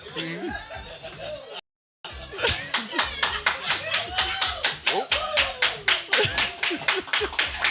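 Audience clapping at a talk, a fast rhythmic burst of claps after a brief silence, building into steady beats with some chuckles and voices mixed in, fairly close and clear.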